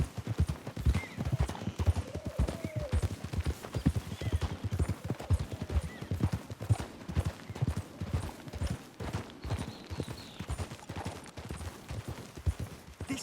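Horse hooves clip-clop in a steady, rhythmic trot in the video game Red Dead Redemption II, close and fairly prominent, with faint background sounds under the hoofbeats.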